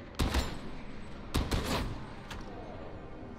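Heavy stubber fire in Warhammer 40K: Darktide, heard as a few faint, sharp gunshot bursts at a distance, separated by quiet gaps with a low background rumble.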